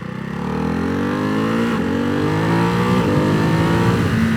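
A 2024 Ducati Hypermotard 698 Mono single-cylinder motorcycle engine revs up hard while being ridden, climbing steadily in pitch with a brief shift, then pulling again. The sound is loud, close and continuous, with wind noise.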